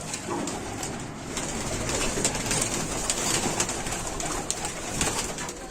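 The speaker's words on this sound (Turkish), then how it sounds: "Burada güvercinler havalanıyor." Pigeons in a loft with ventilation and a balcony, giving a steady mix of cooing and rustling wingbeats that stays moderately loud and close throughout, with no talking.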